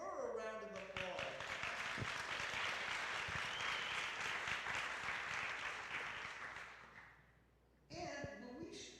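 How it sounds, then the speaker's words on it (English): An audience at a community forum breaks into sustained applause for a speaker, a dense wash of clapping lasting several seconds before tapering off, with a voice talking before and after. "Can we give her a round of applause?"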